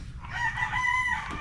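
A rooster crows once, a short, nasal cry heard at moderate distance over faint background noise.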